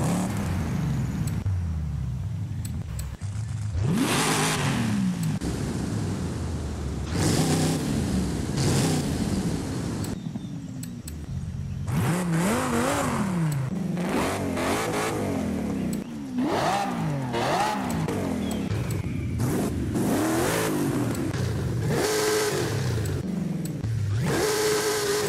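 A diesel Ford Bronco engine in the video game Forza Horizon 5 revs aggressively in repeated bursts, its deep rumble rising and falling with short pauses between throttle blips.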